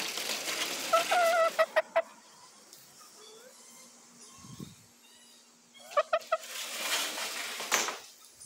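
Backyard chickens (chooks) cluck in short bursts of throaty calls, with a cluster near the start and another after a quiet stretch, fairly close and moderately loud.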